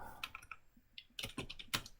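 Keys clack quickly on a computer keyboard in short irregular bursts, close and crisp, with no voices.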